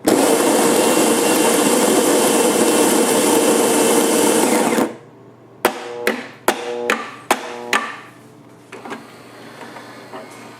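Saeco Easy coffee machine grinding loudly for about five seconds, then falling quiet before a run of sharp clicks and knocks as it moves on to brewing a cup, close up and with no talking.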